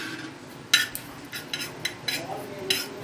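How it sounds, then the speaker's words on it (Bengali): Shahi jeera (caraway) dry-roasting in a pan with scattered sharp clinks and scrapes of a spoon stirring against the metal, a handful of distinct taps over a quiet background. "এবার সাই জিরাটাকে ভেজে নেব, রোস্ট করব।"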